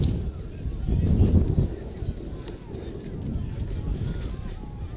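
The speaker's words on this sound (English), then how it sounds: "Wild and windy." Strong gusting wind buffets the microphone at an outdoor semi-final football match, a steady low rumble with surges throughout, close and loud, while commentary voices talk under it.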